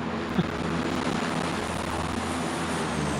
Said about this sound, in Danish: Kommer fly.